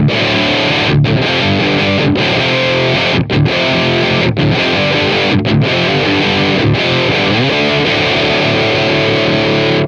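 Heavily distorted electric guitar through an AmpliTube 5 cabinet simulation in an alternative rock tone, playing loud, dense chords and riffs with brief gaps between phrases, no voice.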